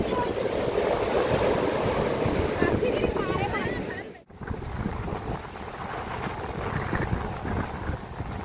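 Surf washes at a beach in Pondicherry under heavy wind buffeting the microphone, a continuous roar that dips briefly midway, with people talking in the background.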